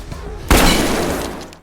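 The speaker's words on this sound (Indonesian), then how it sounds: "Si detektif pun memberi tembakan peringatan kepada Bang untuk menjatuhkan senjatanya." A detective fires a single warning shot in a film scene. The sharp, loud gunshot bursts out after a brief quiet moment and decays as a lingering echo over the following second.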